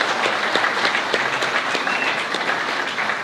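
An audience at a community awards event claps and cheers in a steady, dense wash of applause, loud and sustained throughout with no talking over it.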